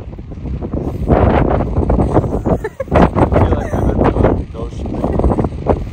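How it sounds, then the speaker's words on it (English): Strong wind roars and buffets the microphone in a steady, loud rush at Crater Lake National Park, Oregon, with people talking over it. "This wind is no joke."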